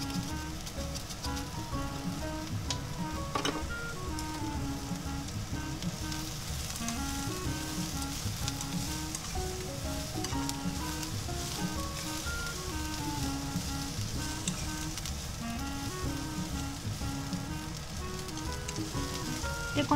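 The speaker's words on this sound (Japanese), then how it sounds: "こうやって炒めていくと島らっきょうに油が回って美味しそうになる" Shima rakkyo and Spam stir-fry in hot oil, with a loud, continuous close sizzle and crackle throughout and no talk.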